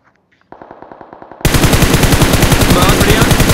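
Sustained machine gun fire in the mobile shooter BGMI, loud and close, a fast rattling burst that kicks in after a few softer rhythmic shots and keeps hammering without pause.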